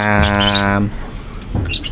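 Pet birds chirp in quick, high-pitched bursts, close by, at the Angeles City pet market, over a low steady harmonic tone that fades out midway.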